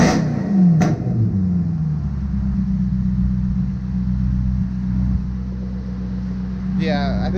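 A Maserati Quattroporte's 4.7-liter V8 with an aftermarket exhaust, heard as a deep, loud rumble from close range, holding a low idle after a sharp rev at the start.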